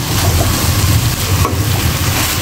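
Fried water lily stems (shapla) and fish are stirred in a hot pan, giving a loud, continuous sizzle with soft scraping from the stirring, close up and with no talk.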